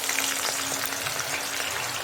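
Chopped onions sizzle steadily in hot oil in a kadhai, a dense, continuous frying hiss that stays loud and even throughout, with no voices.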